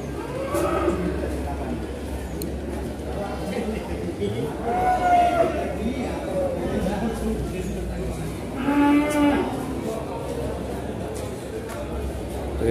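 Cattle at the Pasar Kliwon livestock market in Kudus give a few low, drawn-out moos amid a steady crowd murmur and nearby conversation.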